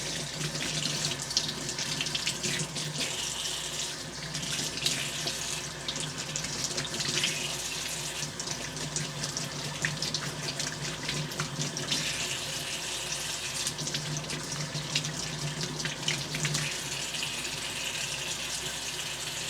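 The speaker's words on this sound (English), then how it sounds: "And then we'll rinse it with warm water." Warm tap water runs steadily from a faucet into a sink to rinse a part of a Hemingway knurling tool, a continuous close hiss and splash with slight changes as the flow hits the metal.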